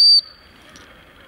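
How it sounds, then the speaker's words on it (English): A single short, shrill whistle blast used in field training of a yellow male British Labrador, loud and piercing for a fraction of a second, then cut off and followed by quiet outdoor ambience. "single whistle blast to stop and sit or stop and look at me."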